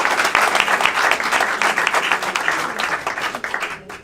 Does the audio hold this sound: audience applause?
yes